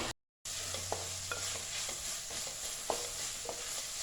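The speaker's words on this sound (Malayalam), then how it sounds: "ഒരു മീഡിയം ഫ്ലെയിമിലിട്ട് നന്നായിട്ടൊന്ന് വഴച്ചെടുക്കാം." Onion and green chili sautéing over a medium flame for a roasted-coconut chicken curry, giving a faint continuous sizzle broken by scattered soft stirring scrapes and taps, steady and fairly quiet after a brief cut of silence.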